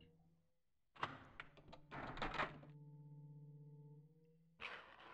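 A locked door is tried in the PS2-era game Curse: The Eye of Isis, giving two short rattling clunks of the handle and frame, then a sustained low tonal hum and a final rattle, close and fairly quiet.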